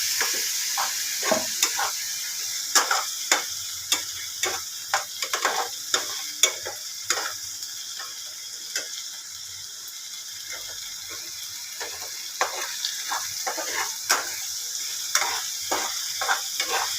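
Ginger paste sautés in a pan with a thin, steady sizzle under frequent quick scraping strokes of a spoon against the metal, close by and rhythmic, with no talking.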